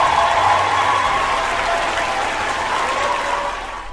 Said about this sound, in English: Ma'am, you get a round of applause.